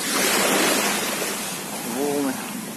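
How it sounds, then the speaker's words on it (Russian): Sea waves of the Gulf of Siam at Pattaya rolling in a broad, loud, steady surf roar with some wind buffeting, while a voice speaks briefly near the end. "Волны."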